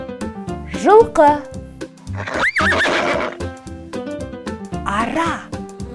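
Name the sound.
horse neighing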